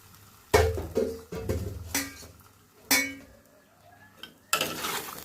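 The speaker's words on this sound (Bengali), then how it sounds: "এবারে লাউটা আসলে সময় বাঁচানোর জন্য সিদ্ধ করে দিয়েছিলাম, সেটা দিয়ে দিলাম" Boiled bottle gourd is tipped into a pan of onions sautéed in a little oil and stirred, giving several sharp metallic clanks and scrapes of utensil on pan, with quieter stirring between, close up and with no talking.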